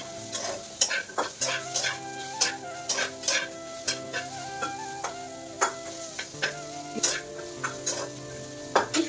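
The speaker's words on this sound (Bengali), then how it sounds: "আগে পটলগুলো ভাজবো, পটলটা একটু বেশি ভাজা হলে ভালো লাগে" Pointed gourd pieces fry in oil in a wok with cumin and radhuni seeds, a steady close sizzle broken by repeated sharp stirring clatters, with no talk.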